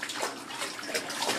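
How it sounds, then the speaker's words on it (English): A child splashes water in a filled bathtub, a steady, close wash of sloshing and dripping with no voices over it. "what's going on with all the splashing?"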